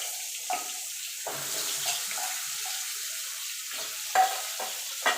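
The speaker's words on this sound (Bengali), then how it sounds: "আলুটা এবার লাল লাল করে ভেজে নেব।" Potato pieces fry in oil with black cumin and bay leaf in a home kitchen for a rohu fish curry, a soft steady sizzle running throughout with occasional brief clinks of stirring, no voices.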